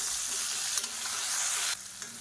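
Small onions and a medium tomato sautéing in a pan for a Tamil kuzhambu, a steady close sizzle with stirring scrapes and no talking.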